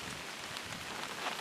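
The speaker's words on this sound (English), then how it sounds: "as I listen to the pitter patter of the rain on the tarp" Rain pattering on a tarp at a wild camp during cold, windy weather, a soft steady patter of many small drops, faint and continuous with no voices.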